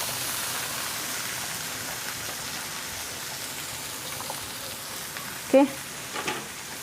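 Mixed vegetables of beans, carrots and corn sizzle steadily in a home cooking pan, a continuous frying hiss through most of the clip, with a brief clatter near the end and a single short spoken word.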